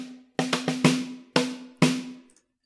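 Dry MIDI drum track in Reaper with no reverb, a sequence of about seven crisp, close hits in an uneven rhythm, each decaying quickly to silence.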